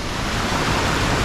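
A steady wash of surf noise fills the clip, broad and continuous, like waves breaking close by in a water park wave pool.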